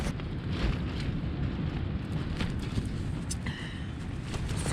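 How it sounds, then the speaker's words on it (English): Strong wind roars and buffets steadily outside a tent on the Pacific Crest Trail, a low rumbling rush with gusty surges throughout and no voices. "Super windy outside"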